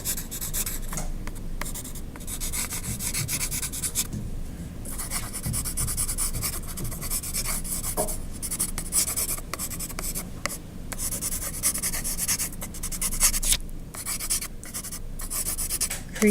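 A pencil shades across paper in continuous, soft scratchy strokes with slight rhythmic rubbing, close and steady throughout with no voices.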